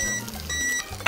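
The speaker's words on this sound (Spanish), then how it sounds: "Ya, la alarma." An alarm clock in a kitchen rings with loud, continuous electronic beeping tones that pulse briefly before stopping, with no talk.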